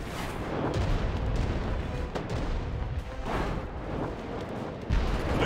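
Heavy booming tank cannon blasts in a World War II strategy video game, with rumbling echoes, loud and close, a few shots in quick succession amid continuous battle noise.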